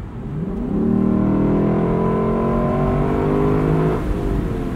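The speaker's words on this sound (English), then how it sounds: "I'm going to floor it." A 2021 Lexus LC 500 Convertible at full throttle from cruising, its engine swelling into a loud, steady rising roar with climbing harmonics for about three seconds before easing off at a quick shift, heard from inside with no talking.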